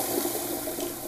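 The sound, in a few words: toilet flush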